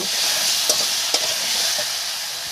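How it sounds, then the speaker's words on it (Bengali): Ground spice paste with turmeric stirred in a hot pan, a steady bright sizzle with two sharp spoon scrapes against the metal, close and continuous. "হলুদ দিয়ে একটু নেড়ে চেড়ে নিয়ে নেব"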